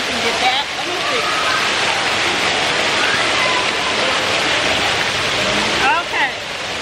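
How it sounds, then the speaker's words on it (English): A waterfall at Walt Disney World pours in a steady, broad rush of falling water, close and constant, with a person speaking briefly at the start and end. "Let me show you all the waterfall."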